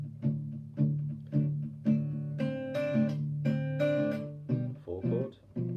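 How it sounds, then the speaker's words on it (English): Acoustic guitar strummed downward with the thumb while the palm mutes the strings, giving a steady series of soft, dull strokes that move through a simple chord change, quiet and alone. "You get a dull thud."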